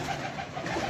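A pigeon coos up close, a soft low rolling call filling the whole brief moment.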